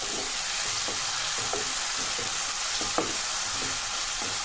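Dal frying in a pan, a constant close sizzle with soft stirring scrapes now and then.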